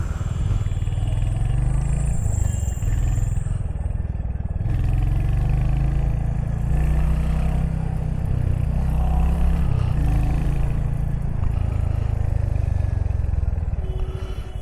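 A Royal Enfield Hunter 350 motorcycle engine idles and revs with a steady low rumble and mechanical clatter throughout, close and continuous with no talk.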